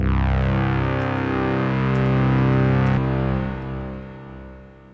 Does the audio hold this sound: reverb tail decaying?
yes